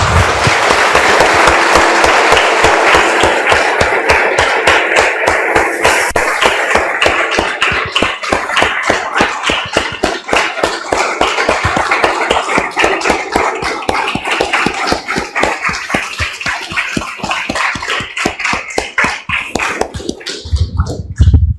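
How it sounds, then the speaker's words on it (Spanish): A church congregation claps for the Lord after a prayer, dense, loud rhythmic applause sustained for about twenty seconds before fading at the end. "Damos un aplauso, hermanos, al Señor."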